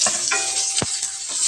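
Onion fries in hot oil in a pan, a steady broadband sizzle with a few stirring scrapes and one sharp thud near the middle, close and moderately loud.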